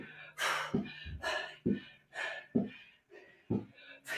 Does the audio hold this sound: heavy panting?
yes